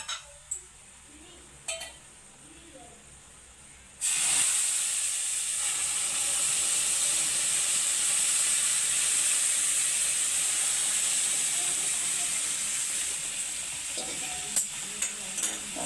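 Milk hits roasting semolina with a sudden loud hiss and steam that holds steady for about twelve seconds, with faint clinks of stirring near the end.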